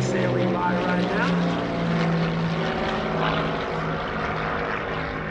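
Beechcraft T-34 Mentor propeller planes at an airshow drone loudly overhead as they fly past, a steady engine roar with a voice talking faintly underneath.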